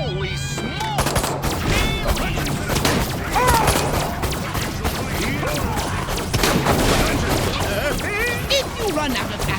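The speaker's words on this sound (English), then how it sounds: "So I'm unlocking your disintegrator ray. Try it out on the fuzz." The disintegrator ray in Destroy All Humans fires in rapid, crackling bursts, loud and almost continuous, mixed with zapping tones and game voices talking over the action.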